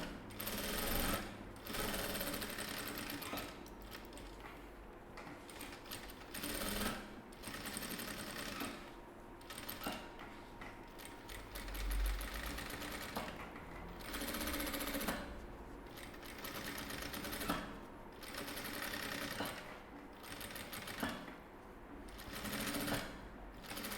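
A sewing machine stitches a fabric glasses case layered with foam in rapid mechanical bursts, whirring for a few seconds, pausing briefly, then starting again, steady and close throughout.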